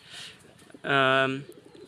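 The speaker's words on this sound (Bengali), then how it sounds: "এখানে কিন্তু বিভিন্ন জাতের পায়রা রয়েছে, বিভিন্ন কালারের" At a pigeon farm, a single pigeon coos once, near and clear, between quieter murmurs of speech before and after.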